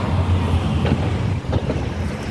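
Gusty outdoor wind at a bus stop, a steady low rumble of buffeting air against the microphone that stays loud and continuous throughout, with no talking.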